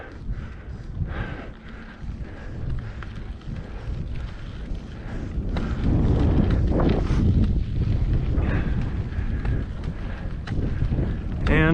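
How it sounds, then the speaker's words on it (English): Rough wind buffets the microphone while cycling uphill on a 68-mile loop north of Gainesville through Lindsay and Muenster, a constant roaring gust that grows louder and heavier partway through, with no clear speech. "And fighting the wind."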